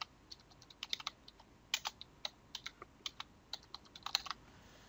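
A password being typed on a computer keyboard, steady close key clicks in an irregular rhythm with a few quicker clusters, alone in a quiet room.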